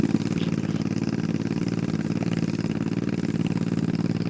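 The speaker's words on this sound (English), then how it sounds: "We got our first Maverick R off the line here." A Can-Am Maverick R rally car pulls off the start line at a desert rally stage, its engine a steady, thumpy mid-pitched drone that holds even and fairly close throughout with no talk over it.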